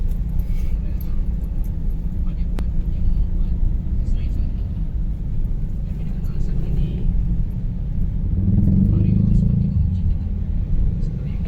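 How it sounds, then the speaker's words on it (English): Heavy weekend road traffic in Bogor, Indonesia rumbles steadily from inside a vehicle, with a deep, continuous engine drone that swells louder near the end, and voices talk over it. "Yet again, the traffic is horrible."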